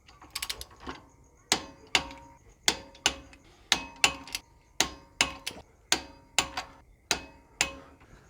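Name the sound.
torque wrench tightening bolts on Toyota Landcruiser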